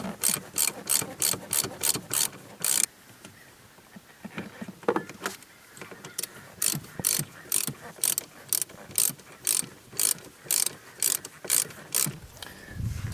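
A ratchet wrench clicks rapidly in quick bursts while tightening a part on a car engine, close and crisp, with a short pause of handling noise in the middle before the rhythmic clicking resumes.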